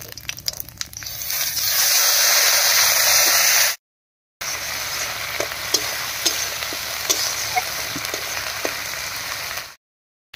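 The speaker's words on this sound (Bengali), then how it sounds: "পেঁয়াজ বাটা দিয়ে একটু নাড়িয়ে নিয়েছি।" Onion paste frying in hot oil with cinnamon, cardamom, cloves, peppercorns and whole cumin, a loud steady sizzle broken by two short silences, with scraping stirs running through the second half.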